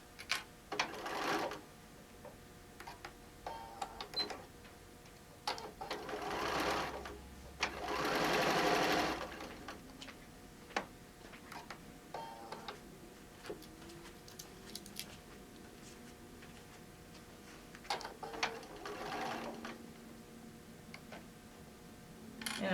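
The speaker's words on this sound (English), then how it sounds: "we're going to stitch just like we have with all the other bindings." Sewing machine stitching down fabric binding on a small name tag and cell phone bag, running in several bursts of fast even stitching separated by pauses, fairly faint and close, with no talking.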